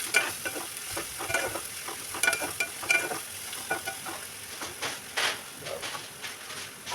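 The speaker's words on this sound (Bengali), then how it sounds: "পেঁয়াজটাকে অনেক বেশি ভাজা করব না। এখন একটু লবণ দিয়ে দেবো" Sliced onions fry in a hot pan after a pinch of salt goes in, a steady sizzle broken by repeated scraping stirs of a spoon, close and fairly loud with no talking.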